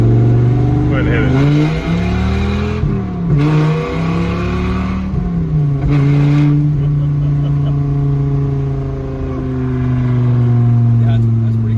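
A 1993 Dodge Viper RT/10 V10 accelerates hard, loud and close, its engine note climbing through revs with a couple of quick gear shifts before settling into a sustained high drone, voices faint underneath.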